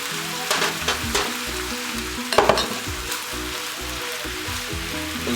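Tomato, onion and jalapeno sizzle and crackle steadily in a hot pan, with a couple of louder stirring scrapes and a brief burst of spatter partway through.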